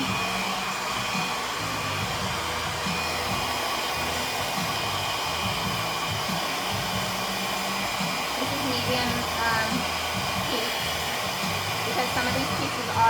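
A hair dryer runs steadily on medium heat while drying the root area of curly hair, a continuous close blowing whir with slight shifts in pitch as it moves, no talk over it.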